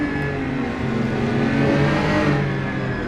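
A GT4 race car engine revs hard from onboard during a race at the Grand Prix of Barbados, a loud, continuous, close roar that rises and falls slightly over a few seconds, with no talk.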